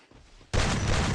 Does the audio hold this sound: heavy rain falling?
no